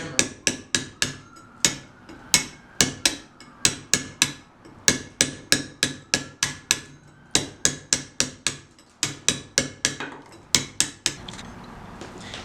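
A metal hammer drives a chisel into a stone sculpture in a steady series of sharp ringing blows, roughly forty close strikes in uneven bursts with brief pauses between groups.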